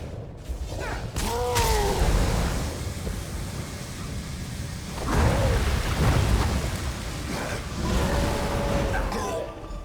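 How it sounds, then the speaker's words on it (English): A Harrow storm in Elder Scrolls Online brings rolling rumbles of thunder over steady rain, swelling in two heavy surges, with eerie wailing cries rising and falling within the storm. "I stood in a Harrow storm and nothing happened."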